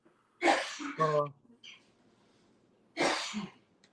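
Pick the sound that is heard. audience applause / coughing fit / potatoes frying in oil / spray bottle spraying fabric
coughing fit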